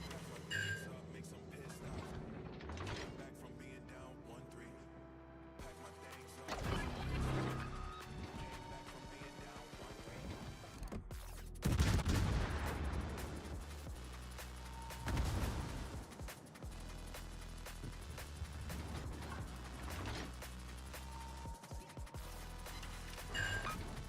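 Heavy booming salvos from a warship's bow turrets in World of Warships, several loud blasts spaced apart over a low rumbling game soundscape.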